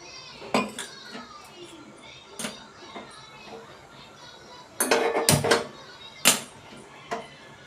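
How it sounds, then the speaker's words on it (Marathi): A metal kadhai is placed on a gas stove in a home kitchen, with several loud metallic clanks and knocks, a cluster in the middle and one more after, over faint background voices. "आपण ठेवूया आता कढई."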